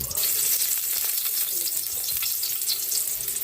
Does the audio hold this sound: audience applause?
no